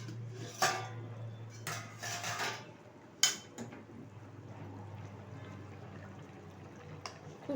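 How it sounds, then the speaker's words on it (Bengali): A metal lid clanks as it is lifted off a pot of lentil fritter and potato curry, with a few sharp clinks of utensils against the pot, then a quiet simmering background. "ঢাকনাটা তুলে দিচ্ছি।"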